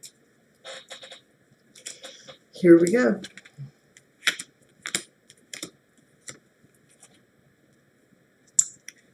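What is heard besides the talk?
shuffling a deck of angel cards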